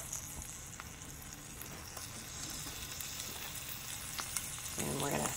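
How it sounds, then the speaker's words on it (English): Sausage frying in a pan with butter and garlic gives a continuous close sizzle that swells a little louder near the end. "I've got garlic added to my pan with the butter, and I'm just going to add my sausage to this."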